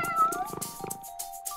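A cat meows in a children's cartoon, a short drawn-out mew up close, followed by quiet padding sounds.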